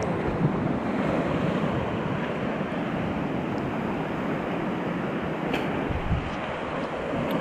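Sea swell rolls in at Porthcothan Bay in Cornwall, a constant roar of surf and breaking waves mixed with wind buffeting the microphone, loud and unbroken throughout.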